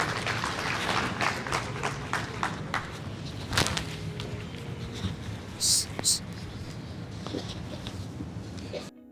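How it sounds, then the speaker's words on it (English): A business event audience applauding as a country general manager is called up, scattered clapping, shuffling and footsteps with talk in the room. "Round of applause,"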